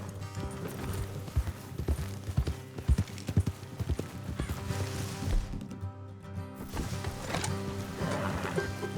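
Horse hooves clip-clop steadily in Red Dead Redemption 2, an ongoing rhythmic trot with a brief whinny-like break midway, heard alone without talk.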